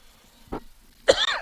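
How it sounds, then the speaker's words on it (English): A short throat-clear followed by a single sharp, close cough from a softball commentator, brief and isolated against near silence. "Excuse me, pardon the cough."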